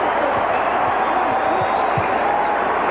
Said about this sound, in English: And that has the crowd going again.